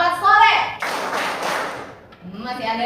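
A group in a teacher-training class claps together in a dense burst of about a second, close and fairly loud. Voices speak and call out just before and after the applause.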